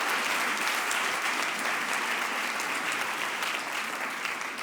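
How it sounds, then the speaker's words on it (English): Steady, dense applause from a large audience at a speakers night at the European Forum Alpbach, clapping continuously at an even loudness for the whole stretch. "A big applause for Gandhi to share the results with us."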